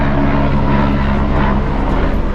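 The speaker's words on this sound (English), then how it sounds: "So far, lots of helicopters right now" Helicopter engine and rotor noise in Zermatt, a steady loud drone with low propeller hum that holds constant overhead throughout.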